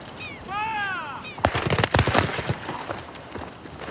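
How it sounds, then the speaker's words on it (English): A firing squad fires a ragged volley of rifle shots, several sharp cracks close together followed by scattered echoing reports. A voice shouts just before the shots. "Convicted of spying for England, they are condemned to be shot by firing squad."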